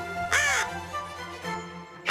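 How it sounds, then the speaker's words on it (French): A crow gives a loud nasal caw, followed by a fainter second call about a second later and the start of another at the end, set over a soft musical background. "Les corbeaux sont omnivores."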